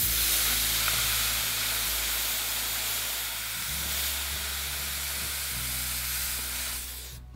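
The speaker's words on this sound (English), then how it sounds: "I'm just going to try and steam that out." A hot iron pressed onto a damp cloth on wooden boat planking gives a loud, continuous steam hiss and sizzle that holds steady for several seconds and then cuts off, with no talking.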